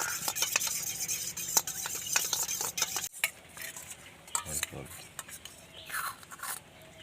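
A spoon stirs egg yolk and a spoonful of milk in a bowl with rapid, close clinks and scrapes for a few seconds, then quieter, sparser handling sounds.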